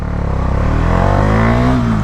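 Bajaj Dominar 400 motorcycle accelerating in first gear, a loud, steady engine drone rising in pitch as the revs climb, heard close from the rider's position.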